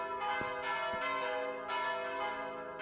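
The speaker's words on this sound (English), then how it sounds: "those bells are loud" Church bells in the video game Mon Bazou ring out loud and close, with several resonant strikes overlapping into a sustained, humming peal.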